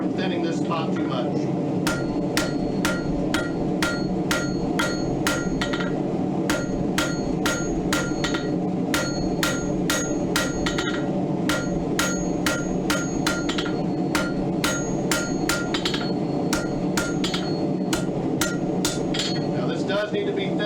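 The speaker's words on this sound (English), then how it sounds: "I'm hammering right on the edge of the anvil to prevent from thinning this spot too much." Steady, rhythmic hammer blows ring out on hot steel at the edge of an anvil, dozens of sharp clanging strikes at a brisk pace over a constant low background hum.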